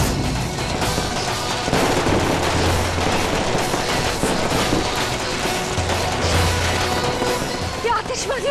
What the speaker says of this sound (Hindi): ये आतिशबाजी हमारे ऊपर क्यों आ रही है?